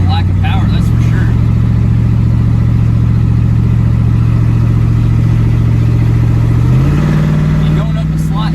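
A Jeep Rubicon 392 V8 towing a load pulls steadily up a slight hill, a loud sustained engine drone rising in pitch toward the end, heard from inside the cabin under continuous talk.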